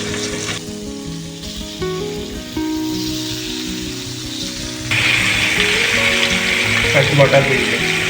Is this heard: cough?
no